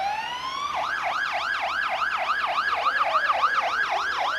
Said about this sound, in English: I'm not going to compete with these sirens